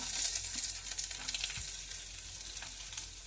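Ginger pieces sizzle in hot oil in a pan with dried red chillies, making a steady, close crackling hiss with a few soft stirring knocks and no talking.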